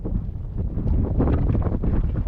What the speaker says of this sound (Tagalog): medyo lumakas naman ang ihip ng hangin